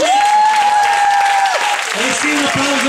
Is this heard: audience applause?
yes